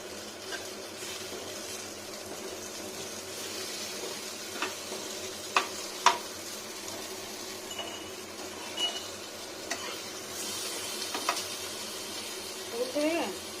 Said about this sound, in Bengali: লো টেম্পারেচারে রেখে ভাজলে খুব সুন্দর ভাজা হবে।